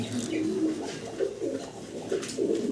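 Danish pigeons coo in repeated soft, low throaty phrases close by, several calls in a row at an indoor or yard sale setting, with faint background noise.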